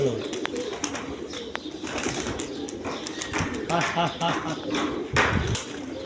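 High-flying Giribaz pigeons coo repeatedly in a busy flock at a pigeon farm, soft rolling calls overlapping with people talking nearby.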